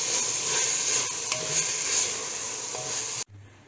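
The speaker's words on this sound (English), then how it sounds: "Let the tomatoes cook till it is nice, soft and tender." Tomato and onion masala mixed with curds sizzles and gets stirred in a pot, a continuous soft frying hiss with occasional scrapes that cuts off abruptly near the end.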